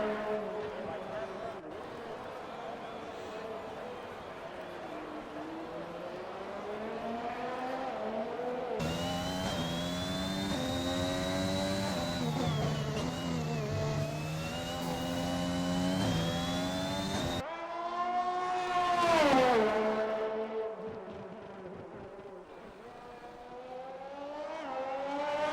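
A Formula-style race car lapping the Canada circuit in a racing game on medium tyres, its high engine whine rising and falling through gear changes and corners, continuous under excited commentary.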